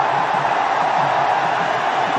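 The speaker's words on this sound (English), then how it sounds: "He's got the crowd very excited." An excited crowd cheers in a cricket stadium during a T20 match between India and New Zealand, a steady, dense roar from many voices, loud and continuous throughout.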